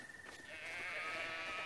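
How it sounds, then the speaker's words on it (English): A sheep bleats once in Zelda: Breath of the Wild, a sustained, wavering call that is quiet and heard alone. "Oh, look at all the sheep."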